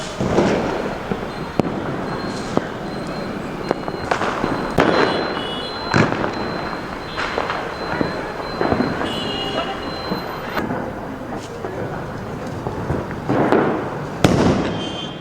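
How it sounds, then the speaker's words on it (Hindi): Diwali firecrackers and fireworks go off in the dark, a string of sharp bangs and crackling bursts at irregular intervals, some near and loud, others more distant, over a steady background rumble. "हमने सोचा हम पटाखे चलते देख ही लें।"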